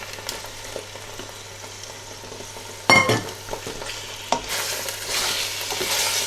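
Paneer cubes, about 200 grams, are stirred into a pan of cooking spinach for palak paneer: a sudden spoon scrape, then steady close sizzling that grows louder and hissier toward the end.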